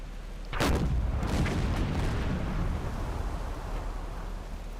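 Submarine deck gun firing in Silent Hunter 4, one sharp loud boom followed by a long rumbling, echoing tail over steady low engine drone.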